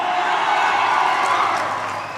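An audience applauds Bhojpuri star Pawan Singh, a dense, steady wash of clapping and crowd noise that holds level throughout.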